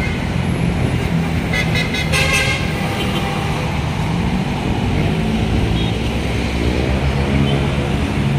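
Truck in busy street traffic in Baclaran, with short horn toots over a constant loud roar of engines and road noise.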